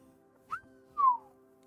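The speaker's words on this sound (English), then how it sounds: "All I can do is whistle" A person whistles two short notes, a quick rising note followed by a longer falling one, close and clear against a quiet background with a faint low hum.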